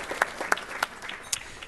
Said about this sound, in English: One more round of applause for Erica.